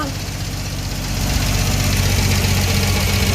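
An engine idles steadily after a fuel line repair, a loud, close, even rumble that picks up slightly partway through, with a little voice in the background.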